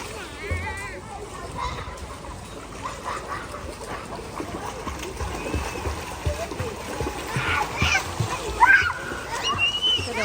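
Crowd of people bathing and splashing in an indoor water park pool at Genting Highlands, with continuous water sloshing and splashes under lively chatter and children's voices, busier toward the end.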